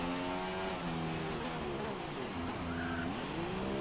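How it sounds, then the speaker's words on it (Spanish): Race car engine in the F1 2016 game on PS4 entering the pit lane, a steady close engine whine with harmonics sliding down and back up as it slows, plus faint tyre noise, no talk. "Entra en box."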